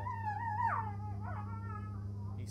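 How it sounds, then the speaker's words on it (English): Pet dogs tussle, and one lets out a drawn-out whining howl that bends upward and then falls off, followed by a few softer yelping whimpers, close and fairly loud over a steady hum. "As my dogs fight in the background."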